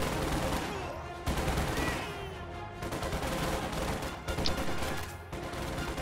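Dense gunfire crackles in a Company of Heroes battle as Panzer Grenadiers shred bazooka riflemen, a continuous loud fusillade with bursts of rapid shots and brief dips.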